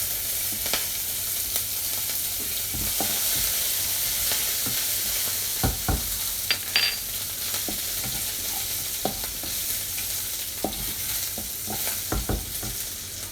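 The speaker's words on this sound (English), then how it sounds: "the jeera has started to pop" Cumin seeds sizzle in hot oil, with scattered sharp little pops and crackles over a steady frying hiss.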